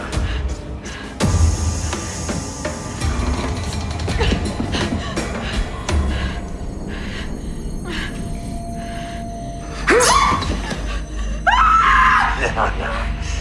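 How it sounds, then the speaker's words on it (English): High, strained screams of a terrified victim in The Listener, a TV crime drama, cut through a tense, rumbling scene, with two loud outbursts near the end. "Don't waste all those beautiful screams."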